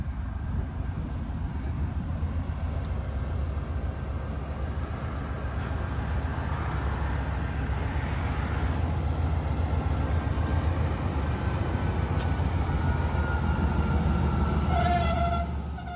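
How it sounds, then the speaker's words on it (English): A train rolls through a rail hump yard, heard from a public bridge overlooking the yard as a steady low rumble of moving cars, with a faint horn or high tone near the end. "And would you look at that? There's a train."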